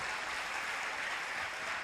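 A congregation at a Christian prayer service claps steadily in praise, a dense wash of applause heard at a distance without pauses.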